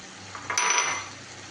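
Grated coconut going into a pan of cooking sweet pumpkin: a brief metallic clink and scrape of a utensil against the pan, rising and fading within about a second over a faint kitchen hum.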